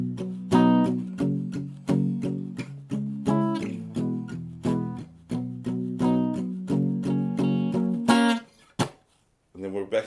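Guitar chord progression from a song, strummed on the bottom three strings, with a steady rhythm of repeated chord stabs close up, then a brief pause before a final strum.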